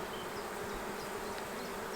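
Honey bees in a hive dusted with icing sugar hum in a close, dense and steady drone, loud and continuous with no voices.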